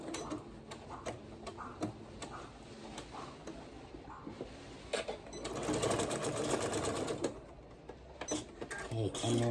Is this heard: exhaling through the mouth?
no